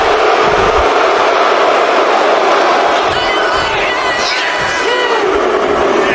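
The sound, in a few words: crowd booing a wrestler in WWE video game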